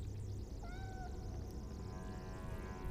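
A kitten in the PSone game Harry Potter and the Philosopher's Stone gives one short, clear meow over a constant low game-music background.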